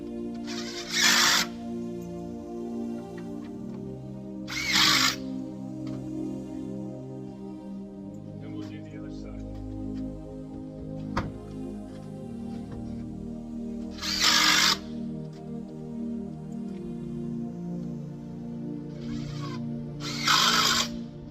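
Power drill driving screws through a face board into a wooden bench leg from the inside, a steady close motor whine broken by four louder bursts as each screw bites in, with no talk.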